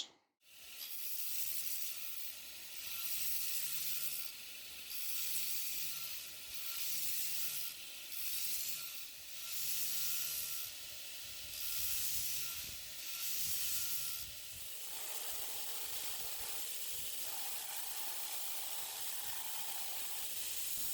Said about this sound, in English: I'm going to go on ahead and hit it on the surface grinder again